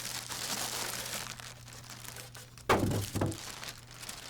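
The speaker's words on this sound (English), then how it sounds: "Set the printer on a flat surface and remove the styrofoam end caps." Rough scraping and squeaky rubbing of styrofoam end caps being pulled off an HP DeskJet GT printer, over a low hum, then two sharp, louder crunches near the end.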